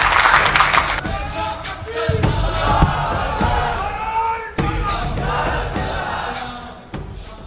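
Crowd applause and cheering at a speech gathering honoring Haji Arfat Sheikh, loud and sustained with shouts rising over clapping, a brief break midway before more cheering.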